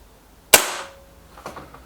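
A single sharp crack from a Beeman 1357 pellet gun, close and loud, decaying quickly, followed by a fainter muffled knock about a second later.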